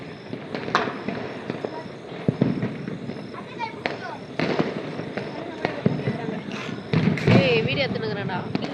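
Firecrackers pop and bang in irregular bursts, some sharp and close, mixed with voices chatting and calling out over the explosions.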